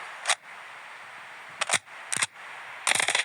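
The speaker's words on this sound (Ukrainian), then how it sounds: "Давайте бочки постріляємо." A few sharp gunshot cracks in Standoff 2, fired at barrels, in separate bursts, a single shot, then a pair, then a rapid cluster of several, crisp against a quiet background.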